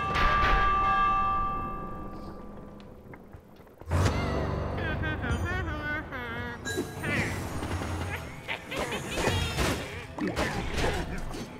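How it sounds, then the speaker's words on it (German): In the Minecraft Dungeons video game, a bell rings loudly and its sustained tone fades, followed by a clanging crash, then a busy clatter of game sounds with overlapping whistles, tones and impacts. "Läuten wir die Alarmglocke."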